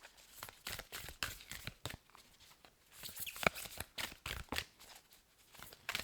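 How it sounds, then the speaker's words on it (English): A deck of oracle cards is shuffled by hand, giving a close, quiet run of papery riffles, crinkles and taps in irregular bursts with no talking. "They are quite hard to shuffle, as you can see"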